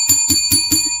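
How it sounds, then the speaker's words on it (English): A bell rung during a live sports-talk stream chimes four times in steady succession, each strike bright and ringing with a lingering metallic tone, loud and close with no talk over it. "Let's ring the bell to free Kyle Pitts"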